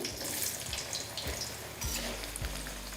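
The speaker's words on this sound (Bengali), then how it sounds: "তেলটা ভালো করে গরম হয়ে গেলে আমি এখানে সর্বপ্রথম দিয়ে দিচ্ছি আলু" Potatoes frying in hot mustard oil give a dense, steady sizzle with crackling bursts and some clatter throughout, close and fairly loud.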